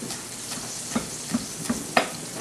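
A knife chops parsley on a cutting board in four evenly spaced, crisp taps over a low background hiss.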